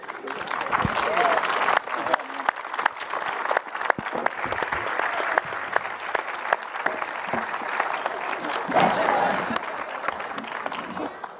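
Sustained applause from an audience, a dense wash of clapping with scattered cheers and voices mixed in throughout.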